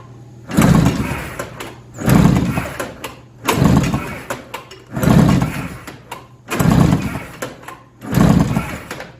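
Snowmobile engine revving repeatedly after a no-spark ignition repair, six rising-and-falling bursts in a steady rhythm, loud and close, with brief idle dips between pulls and no talk.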